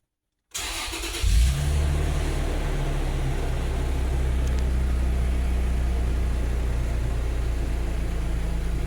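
A Toyota FJ Cruiser's engine cranks briefly, then catches and settles into a steady, loud idle close by, with no talking.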